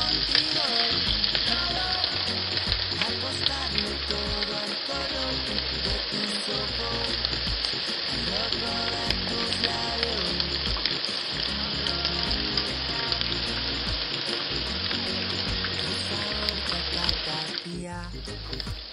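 Chopped onion frying in olive oil with minced garlic, chili pepper and bay leaf in a casserole dish, a loud, steady, dense sizzle that continues without a break throughout, with a brief shift near the end.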